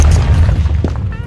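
A loud, deep explosion boom in a cartoon story about a jailbreak, a heavy low rumble that fills the whole moment and stays sustained with slight crackle.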